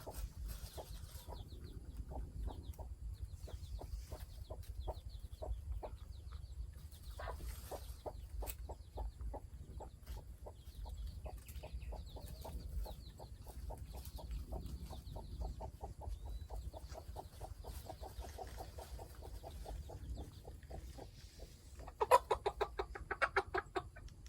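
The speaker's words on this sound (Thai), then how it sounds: "ไก่ต่อหูแดงนะครับเด้อ" A red-eared decoy rooster clucks in a long run of quick, evenly spaced pulses, then lets out a louder crowing burst near the end.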